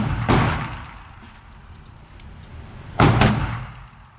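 Two sharp CZ Shadow 2 pistol shots at a shooting range, about three seconds apart, each a loud crack with a ringing tail, standing alone without speech.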